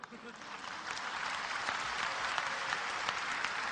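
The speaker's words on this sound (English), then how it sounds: "you're clapping. I like it." A lecture audience claps steadily, the applause swelling slightly and holding at a fairly loud, even level.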